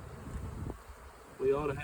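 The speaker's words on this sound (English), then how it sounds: "Pretty gentle bees." Honeybees hum in a steady, close drone that swells louder near the end, with no voices.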